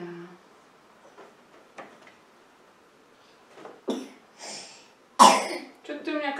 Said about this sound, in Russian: Что-то ты у меня кашель стал после дачи.